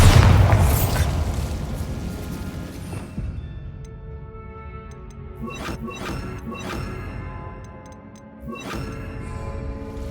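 A Bombarda spell explodes in the video game Hogwarts Legacy, a loud booming blast that rumbles and fades over a few seconds, followed by softer scattered crackles and debris-like hits.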